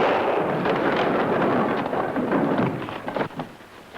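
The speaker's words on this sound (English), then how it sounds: "That shot must have come from the saloon." A gunshot in a 1941 western film serial, sounding from a saloon. It comes as a loud, booming, reverberant blast that rings out for several seconds on an old, noisy soundtrack.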